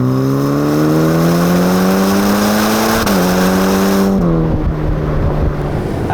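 A Ferrari Roma engine and exhaust drone steadily as the car accelerates, pitch climbing through the gears with a brief dip at each shift, loud and close with no talk over it.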